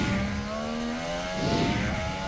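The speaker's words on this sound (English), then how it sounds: "And you're just about to see, out of that corner, Valtteri Bottas get ahead of the McLaren." Formula 1 cars racing at the 2019 Hungarian Grand Prix give a loud, sustained high-pitched engine whine, with several overlapping engine tones shifting in pitch as the cars accelerate out of a corner.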